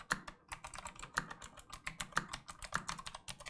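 Rapid clacky keystrokes on an RK Royal Kludge typewriter-style mechanical gaming keyboard, with steady uneven rhythm and a few sharper, louder key hits, close and alone without talk.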